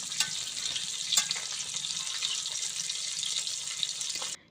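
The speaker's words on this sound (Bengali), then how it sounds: "ঝোলের জন্য জল দিয়ে দিলাম" Water goes into a pot of braising country duck meat, producing a steady close hiss and sizzle. It lasts about four seconds, then cuts off abruptly, with no voices.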